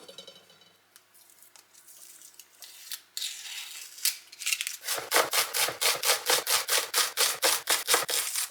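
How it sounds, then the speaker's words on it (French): A shallot is peeled with soft rubbing and scraping, then chopped on a board with a run of quick, crisp, evenly spaced knife taps in the last few seconds, close and clear. "On va l'éplucher et la hacher."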